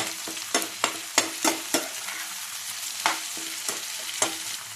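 Tomatoes sauté in a pan for a karela bhaji, with a soft sizzle underneath sharp, irregular clinks of a spoon scraping and stirring against the metal.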